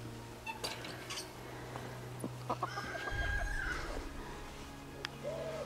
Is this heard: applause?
no